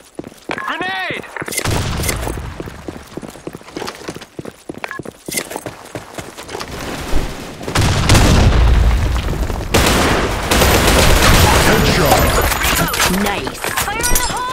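Gunfire and explosions from the online shooter BlackShot: sharp bursts of shots, then a heavy, sustained blast with rumbling debris, loud and close, with game voice callouts heard over the action.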